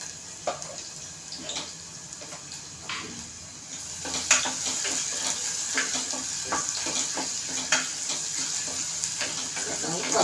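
Onion sautéing in a pan for a matar batata bhaji, a steady close sizzle with intermittent stirring scrapes and clinks throughout.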